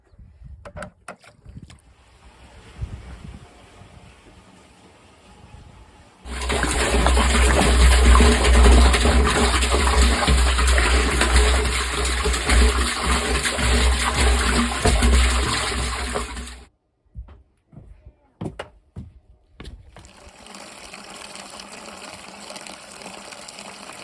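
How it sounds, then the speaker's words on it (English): Water gushes steadily from a container on off-grid raw land, draining into a 55-gallon drum, a loud rushing pour of about ten seconds that stops abruptly, with quieter handling noises before and after. "I'll drain this from here, because I don't have a hose long enough to siphon into the 55 drum"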